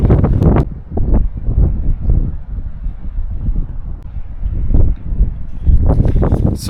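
Gusty wind buffets the microphone on a rough, windy day by the water near the Mutton Island Causeway in Galway, a broad low rumble that swells and dips in loud bursts throughout, with no talking.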